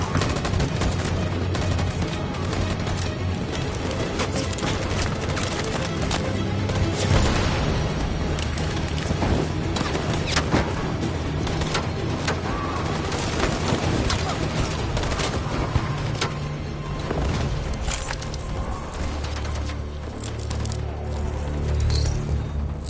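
Sustained gunfire from a firing squad in the video game Detroit: Become Human, loud continuous volleys and booms with a low rumbling score running beneath for the whole stretch.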